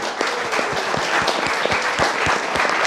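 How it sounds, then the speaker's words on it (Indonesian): An audience applauds its president at a public gathering in Indonesia, with dense, steady clapping and scattered sharp individual claps standing out over the continuous patter. "Tepuk tangan buat Pak Presiden."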